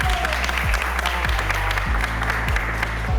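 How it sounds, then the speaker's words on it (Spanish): Dense applause from a crowd at a drag show, under a low rhythmic thumping beat with a sustained tone, continuous and fairly loud. "Un aplauso para ti"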